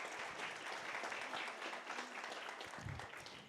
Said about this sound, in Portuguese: uma salva de palmas para o Fabiano